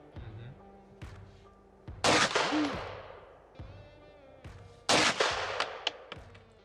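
An old gun with a classic cocking mechanism fires a few sharp, loud shots spaced a couple of seconds apart, each with clacking mechanical action, while someone talks in between.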